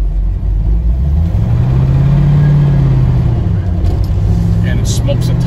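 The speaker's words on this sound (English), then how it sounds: "This Camaro drives really nice going down the road" A 1969 Camaro with a 427 engine drives down the road and shifts through its gears, its loud engine drone steady throughout with the pitch swelling and easing as it pulls.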